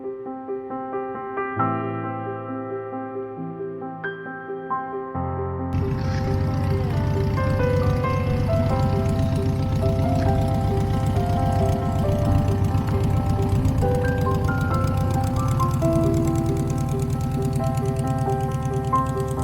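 Piper L4 Cub with a 90 hp Continental engine, droning steadily and loudly, with a quieter, more tonal passage at first before the engine note swells into a full, continuous roar that holds to the end.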